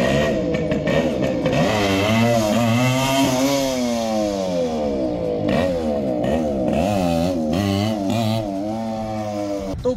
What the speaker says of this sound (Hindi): अभी मैं देखो क्लिप लगाऊंगा आपकी, आप व्हीली चेक करना एक बार कि कैसे व्हीली करती है